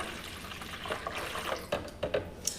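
Sweet and sour mix poured into a container for a drink, a close splashing pour broken into several short gurgling bursts and drips over a few seconds, with no talking.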